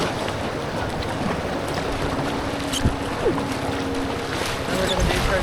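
Kayak paddles dip and stroke through the water of Clear Creek, with steady flowing water and light wind as a continuous wash, occasional splashes standing out briefly.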